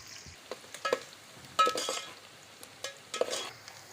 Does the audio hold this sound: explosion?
no